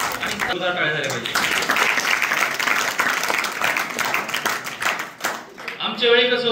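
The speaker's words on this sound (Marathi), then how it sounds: "जोरदार टाळ्या झाल्या पाहिजे." A crowd of students and guests claps at a school gathering after a rank is announced, a continuous loud patter of hands with a voice briefly heard at the start and again at the end.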